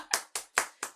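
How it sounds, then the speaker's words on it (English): Four sharp, evenly spaced hand claps sound up close in quick succession, each a crisp snap with a short decay, with no voices over them. "Everyone clap."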